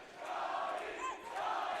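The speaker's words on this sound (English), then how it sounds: "as the crowd is getting pumped up here" A basketball crowd at a high school men's game cheers and roars steadily, a broad wash of voices that swells and stays loud throughout without a break.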